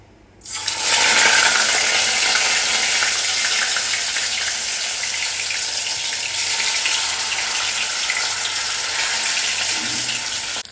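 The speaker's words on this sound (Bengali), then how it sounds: "তো চলো মাছগুলো ভেজে নিই এবার" A loud burst of sizzling erupts as fish hits a smoking-hot pan, then settles into a steady, crackling hiss that continues to the end.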